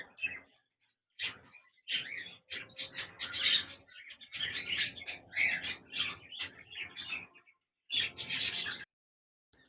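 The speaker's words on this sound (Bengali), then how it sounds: "ইংলিশ বাজরিগার চমৎকার বিগ সাইজের এই পাখি জোড়া" Large English budgerigars chirp and warble in busy, bright bursts with short pauses between, close and fairly loud, no talking.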